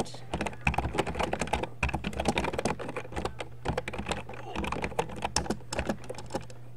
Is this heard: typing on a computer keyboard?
yes